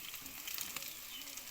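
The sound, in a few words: stirring vegetables frying in a pan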